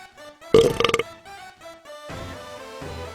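A teen dragon burps in the School of Dragons game, one loud guttural belch with a rattling, pulsing texture, followed by quieter trailing game sounds.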